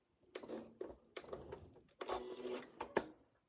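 A sewing machine runs in short bursts while stitching a quilting design guided by curve templates, several quick mechanical runs separated by pauses, fairly quiet and close.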